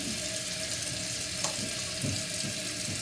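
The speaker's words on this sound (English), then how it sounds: "Drain the lines back out." Rinse water draining steadily out of milking machine lines, a continuous rushing, running flow like a faucet into a sink, close and even throughout with no talking.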